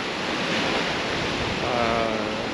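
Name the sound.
Bora wind and waves while sailing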